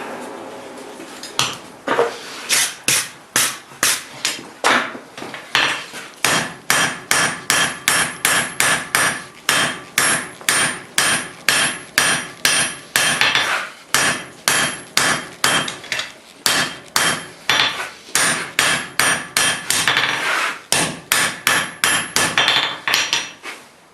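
A hammer strikes hot steel on an anvil while bolt jaw tongs are forged, a long, steady series of loud ringing metallic blows in regular rhythm with brief pauses between bursts.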